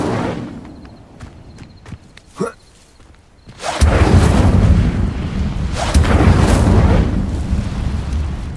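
The Incendio fire spell is cast in Hogwarts Legacy: a few quiet taps and a soft whoosh, then a loud roaring burst of flame that rumbles on steadily to the end.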